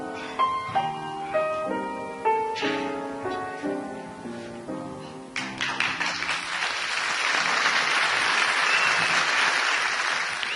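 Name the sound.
audience applause on live recording, Sinatra at the Sands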